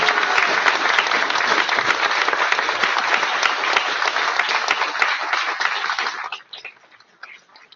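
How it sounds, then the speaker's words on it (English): A crowd at a city council candidates forum applauds steadily, dense clapping that holds for several seconds before tapering off into a few scattered claps. "Would you please give all the candidates a round of applause?"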